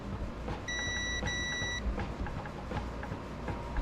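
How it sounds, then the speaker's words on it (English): Multimeter in diode test mode giving two short, high electronic beeps in quick succession over faint background hum while checking diodes on a Roku 43S431 smart TV board. "So I put my meter into diode mode just to test the different diodes."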